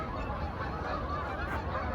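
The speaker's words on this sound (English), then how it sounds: "All of these geese are moving upriver" Flock of geese flying upriver, honking steadily in a thick chorus of overlapping calls, carried from some distance without pause.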